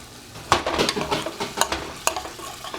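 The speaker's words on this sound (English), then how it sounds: "bring it back down to medium-low heat and start scraping" Chicken in sauce being stirred and scraped around a pan over medium-low heat, with a steady sizzle under repeated sharp scrapes and clinks of the utensil against the pan, close and fairly loud.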